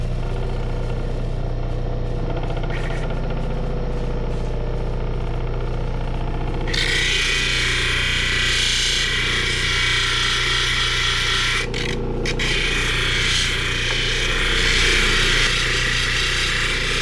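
A cabochon machine runs its polishing wheels against a stone, a constant low motor hum that jumps into a loud broad whirring grind about halfway through, briefly cutting out before resuming.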